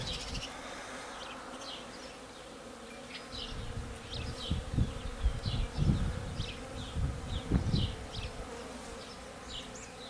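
Honey bees swarm around an open beehive, filling the air with a steady, close buzzing hum. Individual bees drone past the microphone, and low rustling and handling noises sit underneath.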